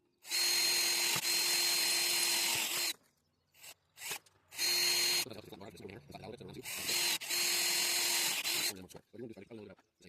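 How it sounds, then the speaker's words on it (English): A power drill whines in loud sustained bursts, stopping and starting several times with brief clatter and handling noise in between. "I'm going to drill holes in these."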